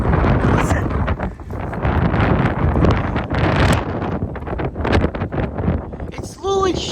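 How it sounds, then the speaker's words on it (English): Strong wind gusts of around 40 to 50 mph batter a house roof in Plano, Texas, a loud continuous roar rising and falling throughout, with a brief chirping sound near the end. "You can literally hear the wind going up against the roof."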